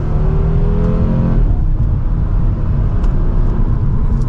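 A 2024 Audi RS3 with sport exhaust in its RS performance setting accelerates hard from second gear, its engine note loud, close and continuous, rising with a deep rumble and a brief shift break partway through.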